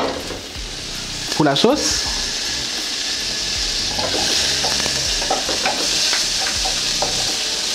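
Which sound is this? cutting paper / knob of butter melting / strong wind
knob of butter melting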